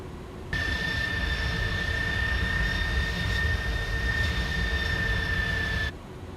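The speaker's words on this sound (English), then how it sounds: "Why my engines are making so much noise." Airliner engines in Microsoft Flight Simulator 2020 on a flight from Huntsville, Alabama to Fort Lauderdale, Florida, a steady loud drone with a sustained high whine that starts abruptly and cuts off near the end.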